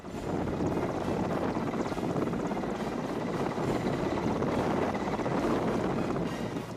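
Sarang team helicopters performing aerobatics at an air show in India, a dense continuous rotor roar with rapid blade chop, loud and steady throughout with some wind noise.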